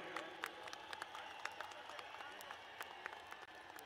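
A large outdoor crowd at a Dussehra Ravan Dahan celebration in Lucknow applauds the chief minister, a dense, steady wash of clapping that sounds faint and distant throughout.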